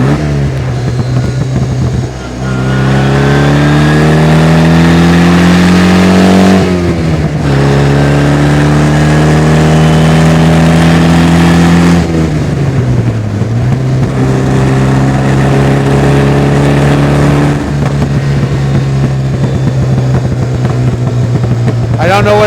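A 1956 Austin Healey 100M roadster engine pulls hard through the gears, loud and close, its note climbing in long sweeps with brief dips at each shift, continuous for over twenty seconds.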